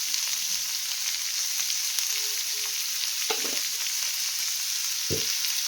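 Onions fry in a pan with turmeric and salt, a steady close sizzle with a few sharp clinks and scrapes from stirring.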